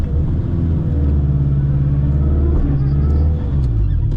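An AWD K-swapped turbocharged Honda Civic rumbles loudly up close as it launches on the street, its deep engine drone pulsing and shuddering with wheel hop, then dropping off near the end.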